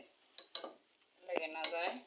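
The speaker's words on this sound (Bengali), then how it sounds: "একটু করে একটু নাড়াচাড়া করা লাগবে, যাতে লাগে না ধরে, নিচে পোড়া না লাগে" Food is stirred in a pan for a sweet vermicelli and milk dish, with a few sharp utensil clinks against the metal followed by a longer scraping, rattling stir at close range.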